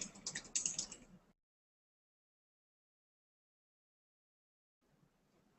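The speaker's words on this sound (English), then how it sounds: "I just typed in what I wanted to be on the top caption" Typing on a computer keyboard gives a quick flurry of light, clicking keystrokes for just over a second, then silence, with a faint murmur returning at the very end.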